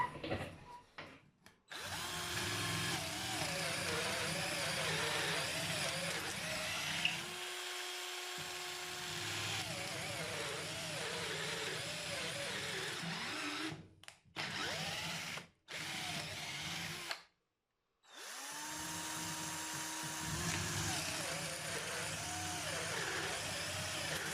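A Parkside 12V cordless drill whines loudly through several long bursts, pausing briefly between holes, with the motor pitch shifting as it bites and spins down.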